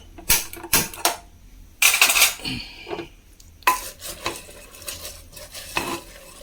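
A spoon stirs lentils cooking with turmeric and rock salt in a pot on a gas stove, making several loud, irregular metallic scrapes and clanks against the pot between quieter pauses.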